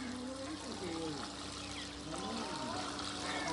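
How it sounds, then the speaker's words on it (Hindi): Water is poured around a newly planted tomato plant in the soil, giving a steady trickling splash that runs for several seconds beneath people talking. "साथ ही इसमें अच्छी तरह से इसको पानी दे देंगे।"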